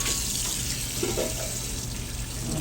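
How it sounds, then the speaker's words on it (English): Cold tap water runs steadily to rinse out the inside of a cleaned scorpion fish, giving a continuous, close splashing rush with no breaks. "And then we're going to take cold water."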